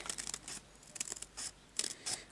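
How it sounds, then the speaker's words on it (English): Scissors snipping paper for a junk journal page, a series of short, crisp cuts in uneven rhythm, close and fairly quiet, with no talking. "I could hear the sound of the scissors doing that."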